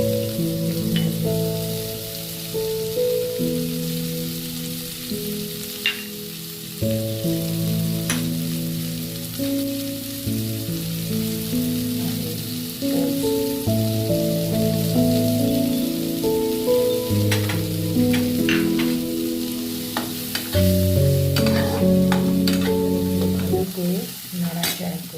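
Chopped capsicum, peas, garlic and onion sizzle in a pan, steady and close, while a utensil stirs them with intermittent scrapes and clinks; soft melodic background music plays underneath throughout.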